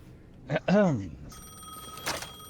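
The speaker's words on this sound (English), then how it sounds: "Alright, let's answer this phone call." A telephone rings in Alan Wake II, a bright electronic ringing tone starting partway through and continuing to the end, heard just after a man's short spoken exclamations.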